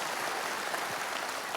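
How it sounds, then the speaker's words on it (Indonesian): A church congregation breaks into lively applause, a dense, steady wash of clapping from a crowd throughout, fairly loud with no voices over it. "Tepuk tangannya yang paling meriah buat Tuhan kita."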